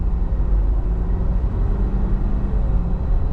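Steady, dense low rumble inside a 2020 Ford F250 Lariat 4x4 diesel pickup driving at about half throttle, with an even drone and no voices.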